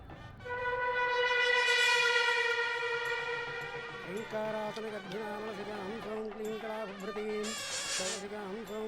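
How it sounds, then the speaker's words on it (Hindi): Loud sustained horn blaring in a busy indoor scene, a harmonic tone that swells early and then shifts pitch in steady bursts, with voices and commotion mixed underneath. "पहले वो हॉर्न बंद कर।"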